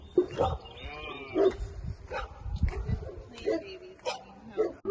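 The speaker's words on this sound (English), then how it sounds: "Barking dogs in the background." Dogs bark in repeated short bursts, some sharp and some whining, at mid distance, with occasional low vocal sounds in between.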